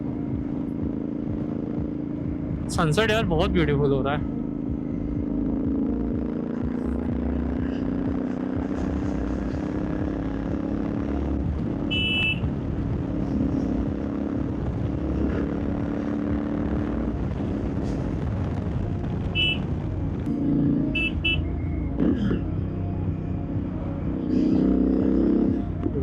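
A Royal Enfield GT650 motorcycle cruising on an open road, its steady engine drone continuous under wind noise, with a rider briefly speaking over it.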